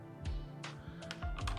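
Quick, soft keystrokes clatter on a computer keyboard with a slightly faulty feel, a handful of irregular taps and clicks heard close and quiet with no talk.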